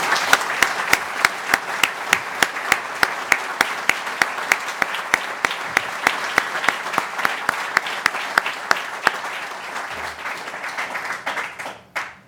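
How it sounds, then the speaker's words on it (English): A conference audience gives a sustained round of applause for a departing chairman, dense clapping from a large crowd filling the room steadily for about twelve seconds before tapering off near the end. "So please could I ask you to show that with a round of applause"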